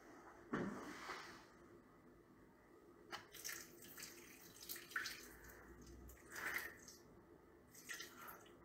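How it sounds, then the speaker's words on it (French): Very cold water poured into a Thermomix bowl, a faint splash and trickle followed by scattered quiet drips and pours in a quiet kitchen. "Je vais donc mettre 75 d'eau bien froide"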